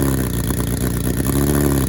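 A 2021 Kawasaki ZX10R sport motorcycle engine holds a loud, steady high idle right after startup, a continuous close-up drone with no pauses.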